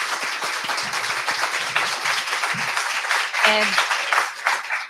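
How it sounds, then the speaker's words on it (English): Audience applause at a Shaker Heights candidate forum, a broad wash of clapping filling the room, with a brief voice breaking through near the end. "Let's give a round of applause to our candidates."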